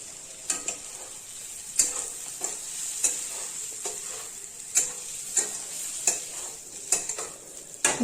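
Okra and prawns are stirred and fried in a pan, with sharp spatula taps and scrapes roughly every half second over a bright, steady sizzle, close and fairly loud.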